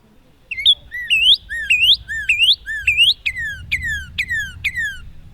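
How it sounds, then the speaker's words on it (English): Northern cardinal song rings out loud and close: a series of rising slurred whistles repeated about five times, then a run of quick descending whistled notes, evenly spaced and alone. "The cardinal. Northern cardinal."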